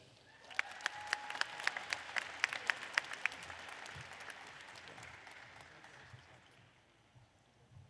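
Applause for graduates at a university winter commencement: a crowd's dense clapping with sharper individual claps early on, moderately distant, gradually thinning and fading out toward the end.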